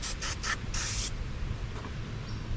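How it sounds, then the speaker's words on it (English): A few short hissing bursts from an aerosol can of carburetor cleaner sound close by, sprayed onto a 1986 Honda Fourtrax carburetor, followed by one longer spray, then quiet. "I'm just gonna spray this whole thing down with carb cleaner"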